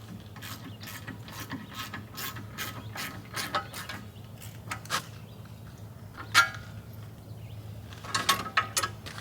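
A hand ratchet loosens a bolt on a tractor bracket holding metal lines, giving bursts of rapid close clicking strokes with brief pauses and a low background hum.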